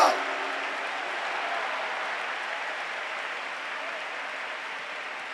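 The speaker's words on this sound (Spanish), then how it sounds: "denle un fuerte aplauso al Señor" A church congregation applauds together in a dense, steady wash of clapping that holds at an even level from start to finish.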